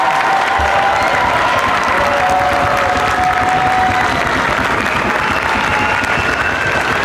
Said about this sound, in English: applause going for the sixth grade band